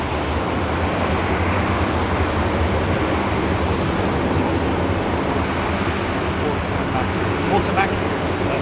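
A jet airliner spools up its engines for takeoff at Heathrow in the evening, a steady broadband roar that stays loud and even throughout, with brief faint clicks near the end.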